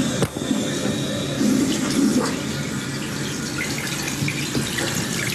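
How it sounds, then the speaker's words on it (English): Toilet tank refilling through its fill valve once the household water supply is turned back on; a steady, close rushing gush of water runs throughout with no talking. "you turn your water back on."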